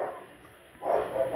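A husky at a dog farm in Cairo gives one short, moderately loud bark after a quiet stretch of room noise.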